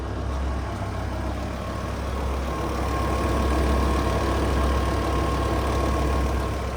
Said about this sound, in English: back to the exhaust and that V10 purring.